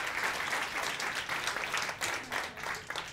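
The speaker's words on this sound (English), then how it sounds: "Big round of applause." Audience applause at a math lecture, a steady dense wash of clapping from a crowd that holds strong for about three seconds without a break.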